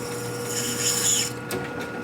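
A deburring tool scrapes a cut metal edge during a used chopper bike rebuild, giving a close, steady rasping scrape that eases off near the end, with a constant background hum.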